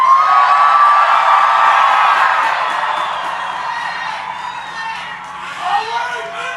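A large rally crowd at the March for Life in Washington roars and whoops in a sustained swell that gradually fades, with voices prominent in the mix.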